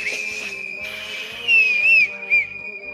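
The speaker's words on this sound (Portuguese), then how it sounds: "Esse apito não tá bom. Toca para mim esse apito." A whistle is blown during a Purim festivity with a reading of the Megillah of Esther, giving a steady shrill tone with a few brief louder chirping bursts over low background murmur.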